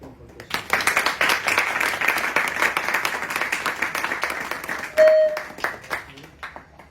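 An audience at a house program claps together, a dense patter of hands that starts within a second, holds steady for several seconds and thins out toward the end.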